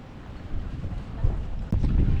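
Wind gusting against the microphone on a cloudy, foggy, chilly evening in Lonavala, a rough low rumble that swells and buffets in uneven surges.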